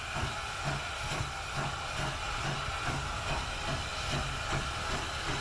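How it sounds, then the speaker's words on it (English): A train on the North Yorkshire Moors heritage railway rumbles and hisses steadily in the distance as it approaches Goathland Station, with faint rhythmic clicking over a constant wash of noise. "a train approaching Goathland Station on the North Yorkshire"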